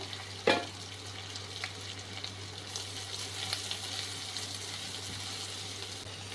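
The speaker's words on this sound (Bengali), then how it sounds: "এখানে তিনটে পেঁয়াজ মাঝারি সাইজের কুচি করে রাখা আছে যাতে তাড়াতাড়ি রান্না হয়ে যাবে পেঁয়াজগুলো একটু লাল করে ভেজে নেব" Three medium chopped onions frying in a pan for pepper chicken: a continuous sizzle with one sharp clank near the start and occasional faint stirring scrapes, over a low steady hum.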